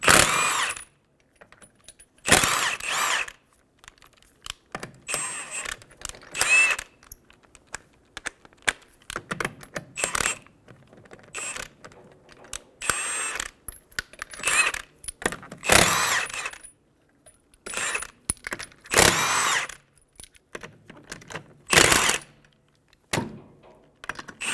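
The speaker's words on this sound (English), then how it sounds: "remove the 5 lug nuts" Lug nuts on a 2007-2011 Toyota Camry wheel being removed with a 21mm socket: repeated bursts of close, sharp metallic ratcheting clatter separated by short quiet pauses, with no talk.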